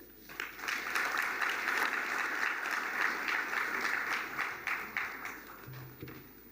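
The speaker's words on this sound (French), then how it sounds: "Je vous demande de l'applaudir." At the LCGF 2019 opening ceremony, an audience applauds Mohamed Moudour, governor of the Diffa region of Niger, in sustained, moderately distant clapping that fades near the end.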